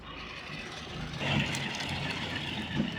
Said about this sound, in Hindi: तो ये देखो फाइनली अपनी महिंद्रा का ओजा ट्रैक्टर आ चुका है ट्रॉली को लेके